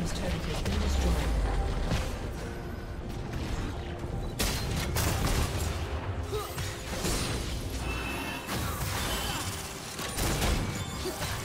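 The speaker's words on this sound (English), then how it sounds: "Blue team's turret has been destroyed." A turret is destroyed in a League of Legends match, a loud, crunching crash and rumble over busy game sound effects, with an announcer voice speaking over the chaos.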